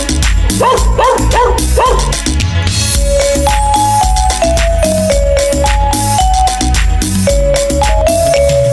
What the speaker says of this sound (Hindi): मुझे कुत्ते ने जगाया, बोला भाऊ भाऊ भाऊ